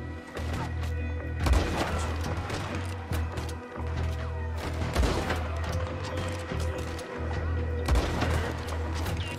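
Gunfire in the Red Dead Redemption 2 game, several sharp shots at irregular intervals, loud and close, over a low steady background hum.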